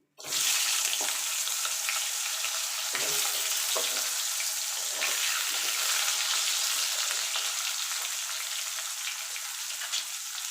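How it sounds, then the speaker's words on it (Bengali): Potatoes fry in hot oil left over from frying rohu fish, a steady close sizzle with faint crackles and occasional stirring, no voices. "এই তেলে আলুগুলো আমি ভেজে নেব।"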